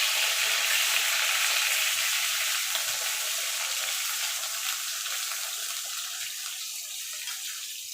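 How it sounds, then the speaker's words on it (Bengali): Eggplant slices fry in hot oil, a dense, bright sizzle that starts loud and tapers slightly as it continues steadily. "এই তেলে বেগুনগুলো ভেজে নেব।"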